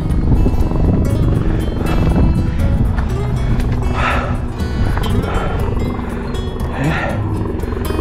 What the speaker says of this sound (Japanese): ヘリだ、ヘリ。